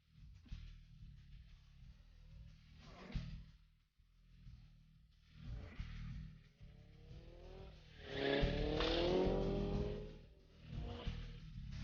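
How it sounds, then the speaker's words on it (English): Purpose-built drift cars slide and rev at a drift event, engines rising and falling with a loud burst of tyre squeal around the middle, heard from moderately close with crowd-level ambience. "The purpose-built drift cars certainly showed how it was done."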